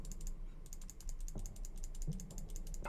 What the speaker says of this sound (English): You can hear my mouse clicking.